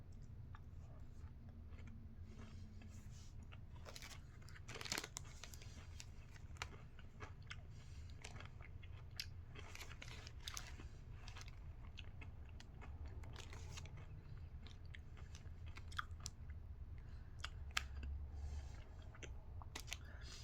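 Crunchy chewing of a Hershey's waffle cone candy bar, steady crackly bites throughout, close and quiet under a low background hum.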